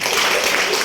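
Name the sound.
audience applause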